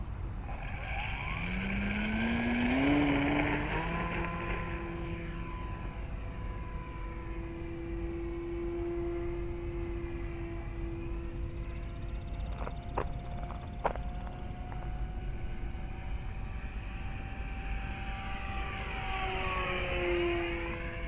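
A Dynam Super Cub model airplane takes off with no flaps, its small electric motor whining up in pitch, then holding a steady buzzing drone as it climbs, with the tone shifting as it passes and turns.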